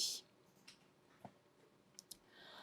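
Faint, sparse computer mouse clicks on an OK button in a ScanNCut DX software window, a few isolated light clicks in a quiet room.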